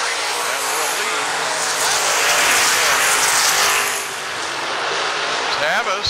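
Race cars roaring past on a track at a night season event, a loud sustained engine blare that swells and fades as the pack passes, with an announcer talking over it.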